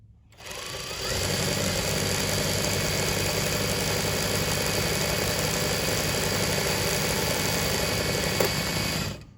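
Industrial sewing machine winding thread onto a bobbin, a steady loud mechanical whir that starts up after a second and runs evenly until it stops with a small click.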